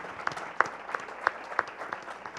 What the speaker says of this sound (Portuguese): Aí, uma palma para Palmas Lab.